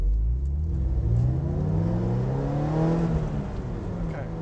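A BMW E46 M3 and a Mazda MX-5 Miata roll into a drag race, engines droning together with a rising rev sweep as they accelerate in second gear, heard from inside a car.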